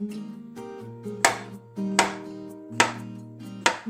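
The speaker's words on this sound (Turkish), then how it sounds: "Şimdi mantarlarımı doğrayacağım." Four crisp knife chops through mushrooms land on a cutting board at a steady, unhurried pace, close by, with a faint tonal hum underneath.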